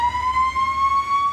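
A Karnataka village's evening siren sounds at 7 pm as one loud, sustained wailing tone that slowly rises in pitch, heard alone and close.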